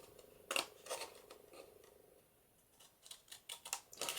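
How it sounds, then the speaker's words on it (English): Pinking shears cut through a paper bag in a quiet room, giving several close, crisp snipping crunches in irregular bursts with short pauses between them. "we take our pinking shears, if we've got them, and we cut along here"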